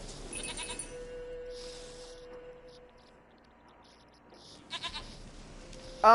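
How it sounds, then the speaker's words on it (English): Goat bleats from The Witcher 3 in a game setting, several wavering calls at moderate distance over a low ambient hum, with a louder, closer bleat at the end. "Goat of mine, dearest, sweetest goat."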